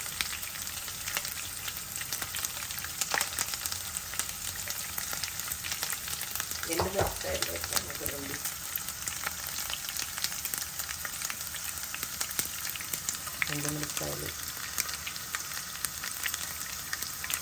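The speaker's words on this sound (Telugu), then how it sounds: "వెల్లుల్లి బాగా ఎర్రగా వేగితేనే బాగుంటుంది" Garlic frying in hot fat for a dal tempering after urad dal and cumin, a steady bright sizzle throughout with a few clinks of a spoon stirring the pan.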